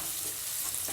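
Tomatoes half-softened in a pan with salt give off a steady, close sizzle, with a brief faint scrape near the end.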